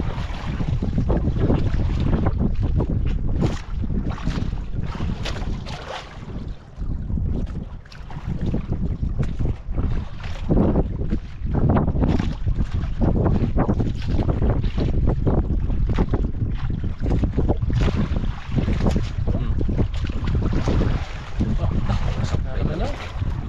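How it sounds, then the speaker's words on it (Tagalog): A boat pulls in and docks on open sea water, its steady engine chugging close over constant wind buffeting the microphone and splashing waves, with voices talking over it. "Ayun, napupundo ng isang bangka oh"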